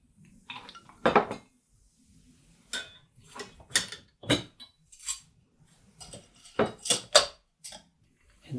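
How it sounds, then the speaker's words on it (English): Ice cubes clink and knock against a glass as a Manhattan cocktail is stirred rather than shaken, a string of close, bright clattering bursts with short pauses between them. "And you want to stir it. Don't shake it."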